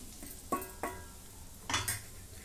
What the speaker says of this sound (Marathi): आता हे सर्व ह्याच्यात मिसळून घेते